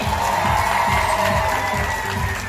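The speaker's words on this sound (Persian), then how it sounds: "یه هنرمند دوست داشتنی سالی خانم رو تشویق کنید" An audience applauding an artist: a brief, steady burst of dense, close clapping from a crowd, with no voices standing out above it.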